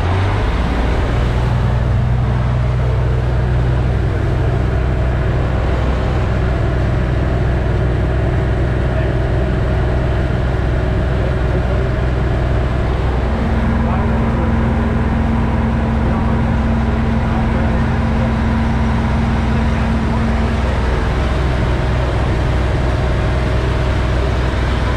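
SHERP off-road amphibious vehicle floating on water in third gear, its engine rumbling loud and close, throttle opening partway through as a new steady tone rises over the low drone.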